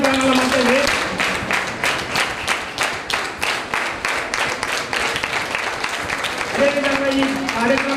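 An audience at a health camp held at a social welfare degree college bursts into sustained applause, with dense rhythmic clapping throughout and a voice speaking over the crowd at the start and near the end.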